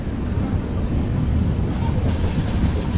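Indore Express train pulling into a railway station between Haridwar and Dehradun, heard from a seated carriage as a loud, continuous rumble and rattle of the wagons, steady and close.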